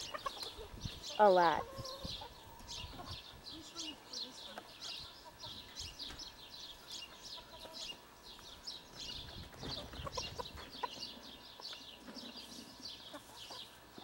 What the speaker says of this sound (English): And there's a funny looking chicken.